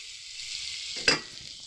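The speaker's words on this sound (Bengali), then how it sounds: "ভালো করে একটু রসুনটা ভেজে নেব" Garlic paste fries in a pan with a faint steady hiss, then a single short sharper scrape or sizzle burst before settling back to the quiet hiss.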